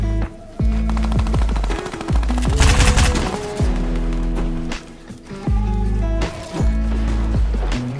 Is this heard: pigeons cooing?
no